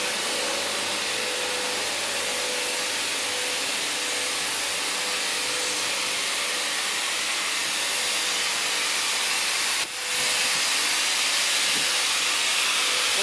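Steam locomotive 3642 stands at a platform at Central station during a train expo, giving off a steady, broad hiss of escaping steam that runs throughout, with a brief dip near the end.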